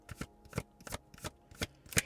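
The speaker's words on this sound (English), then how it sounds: "I have to be careful how fast I shuffle because it shakes the desk" A deck of tarot cards shuffled over a desk gives a series of about six evenly spaced, soft papery riffles and taps, close up and fairly quiet.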